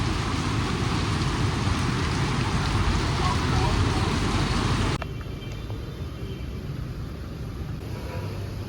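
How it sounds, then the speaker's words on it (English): Extreme, heavy downpour in a South Vietnam city, a dense and constant roaring hiss of rain that drops to a slightly softer level partway through. "This is just the most extreme rain I've ever seen"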